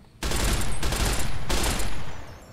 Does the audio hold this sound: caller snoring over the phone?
no